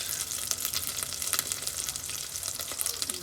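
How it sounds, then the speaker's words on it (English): Butter melting in a hot pan on the stove gives a steady, close sizzle with fine crackling and faint stirring, continuous and fairly loud throughout with no voices. "Okay, the butter's almost melted."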